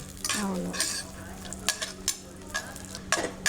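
Cashews and dry fruits frying in a pan for a phirni sweet, with a soft continuous sizzle broken by several sharp scrapes and clinks of a spoon stirring against the metal, fairly quiet and close.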